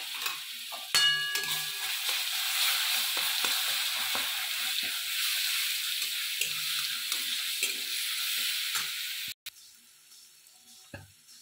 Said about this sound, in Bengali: এটা ভালো করে একটু ভেজে নেব।